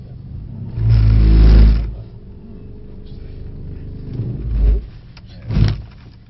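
A Mercedes-AMG 63 accelerates on a wet track, with a loud engine surge building and fading, followed by two shorter, quieter bursts of power close by.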